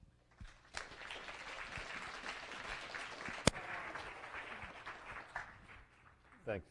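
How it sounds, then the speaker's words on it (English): Lecture audience applauding to welcome an author before his talk on his book, a steady wash of clapping across the room with some voices mixed in and a sharp knock partway through. "let's give him a round of applause to welcome him"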